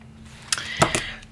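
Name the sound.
writing on paper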